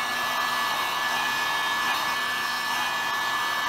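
A heat gun blows steadily on wrinkle paint coating a motorcycle motor, a loud, even, hair-dryer-like whoosh held close throughout with no breaks or voices.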